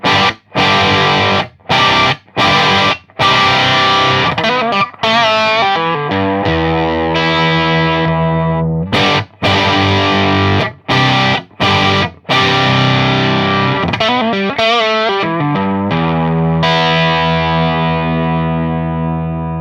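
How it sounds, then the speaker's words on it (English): An electric guitar through a BOSS Super Octaver OC-3 pedal with moderate crunchy distortion plays choppy stabs and ringing chords, stopping and starting in rhythmic bursts, no voices. "To me it's quite moderate crunch-y sound"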